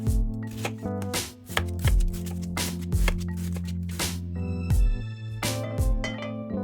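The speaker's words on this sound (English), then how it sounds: "First, chop one onion." One onion being chopped with a knife on a cutting board in a home kitchen, a series of irregular, close, crisp blade knocks repeating over several seconds, with no talking.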